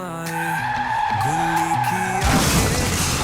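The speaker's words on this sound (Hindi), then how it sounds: "गुल्ली की गाड़ी अचानक से इधर उधर कैसे होने लगी?" A cartoon jeep swerves out of control, its steady engine tone wavering and bending before a loud, harsh tyre skid takes over near the end.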